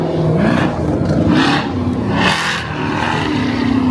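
Toyota Supra with a drag pack passing by on a busy Los Angeles street, a loud, raspy engine roar that swells and fades with a couple of revving surges, heard close.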